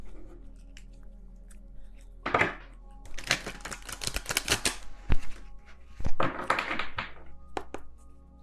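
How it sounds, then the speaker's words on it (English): Tarot cards are laid on a table in short clusters of soft slaps, taps and shuffling, close and clear against a quiet low hum, with no talking. "I'm just going to set down, to save time, one more card for each of these"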